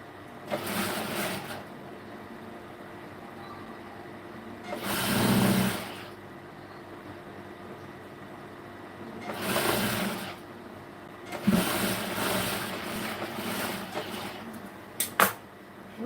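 A sewing machine stitches blouse cloth in three sustained whirring bursts with pauses between, the last run stuttering into short starts and stops, close and clear with no talk.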